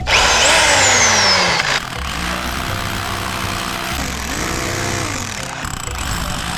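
A power drill bores a hole during house construction, with a loud high whine at first, then several shorter revving bursts with pauses between them, close by.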